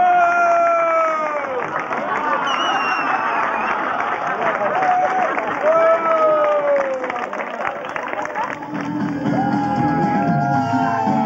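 A crowd claps and cheers with shouts and whoops at a bartenders' freestyle competition during the 2001 Argonaut Days in Vrhnika, Slovenia, a dense steady roar, while a voice talks over it and music plays.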